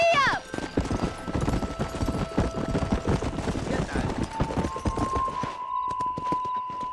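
Galloping horse hooves in the video game Red Dead Redemption, rapid clip-clop rhythm driving steadily throughout, with a short whinny near the start and a sustained tonal music or sound-effect layer entering later.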